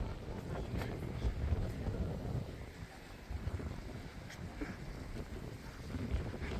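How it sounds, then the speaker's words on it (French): Strong wind buffets the microphone on the beach at Middelkerke, a steady, rumbling roar with gusty swells that persist throughout the clip. "Je parie qu'on va rien entendre avec le vent."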